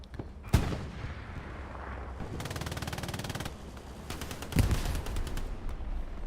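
Machine gun fire in the World War II video game Hell Let Loose: sharp close gunshots and long rapid automatic bursts of rattling fire, with heavy booming reports among them.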